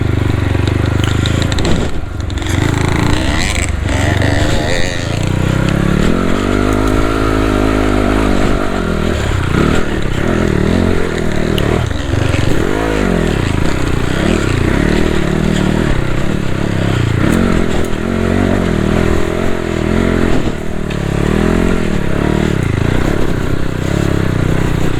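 A trail motorcycle climbs a hill near Dujiangyan, China. Its engine revs and labours up and down under load, with scraping and clattering over rough ground, loud and close throughout.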